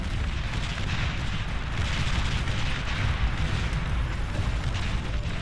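Artillery fire in the real-time strategy game Beyond All Reason, a dense, steady rumble of overlapping booms and low blasts running continuously throughout at a loud, even level with no voices.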